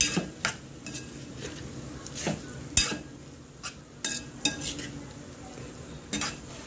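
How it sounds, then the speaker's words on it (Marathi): A spoon stirs finely chopped capsicum and tomatoes in a pan for vegan pav bhaji, with irregular scraping and clinking against the metal over a soft sizzle, close and fairly quiet. "छान आपल्याला मिक्स करून घ्यायचं आहे."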